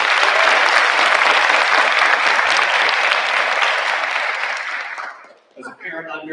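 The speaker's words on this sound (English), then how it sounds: "So one more round of applause for this morning." Audience applause at the Pacific East District Honor Music Festival, a dense, loud round of clapping from a large crowd that holds steady for about five seconds, then fades out, followed by a voice speaking.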